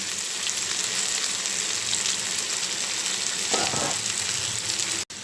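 Boiled taro hisses and sizzles in hot oil in a steady, loud fry, with a brief scraping stir partway through.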